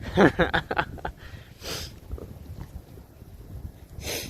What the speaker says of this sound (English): The sniffles are coming back.